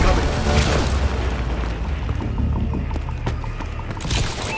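Bombing-run explosions in Call of Duty: Advanced Warfare Domination multiplayer: dense, continuous low rumbling booms and blasts layered over gunfire and game noise, with announcer voices in the mix.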